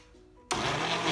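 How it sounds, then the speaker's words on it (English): An electric blender blending a chocolate banana smoothie switches on abruptly after a quiet moment, then roars steadily with a loud, close, whirring motor buzz. "now I am going to close up my blender, turn it on, and then just wait until it all blends up"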